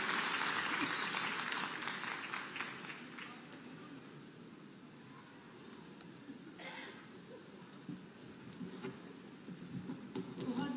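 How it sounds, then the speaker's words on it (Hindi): A crowd at a university convocation in Uttar Pradesh applauds to welcome the chief minister, dense clapping that fades a little midway and then swells again toward the end. "एक बार जोरदार तालियों से स्वागत करिए"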